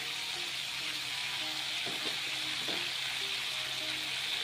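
Steady, loud frying sizzle of pigeon meat and capsicum in a pan with a couple of brief stirring scrapes; no voices.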